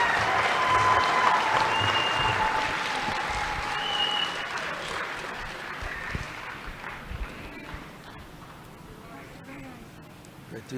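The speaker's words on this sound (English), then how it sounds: "Let's give him a round of applause." An audience applauds at the Navajo Technical University spring 2025 commencement, with sustained clapping and a few cheers that slowly fade away toward the end.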